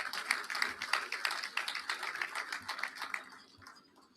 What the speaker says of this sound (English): Please give the chairman of Waltersmith a round of applause